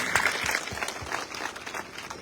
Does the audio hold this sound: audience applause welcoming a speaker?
yes